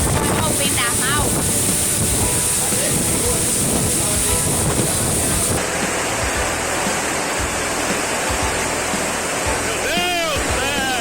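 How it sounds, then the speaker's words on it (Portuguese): A violent hailstorm with strong gusting wind in Montes Claros, Minas Gerais, Brazil, ice pelting into a pool. A dense, loud, constant roar of hail and rain fills the whole stretch, with excited voices buried in it. "Meu Deus, olha o tanto de pedra na piscina. Olha o vendaval."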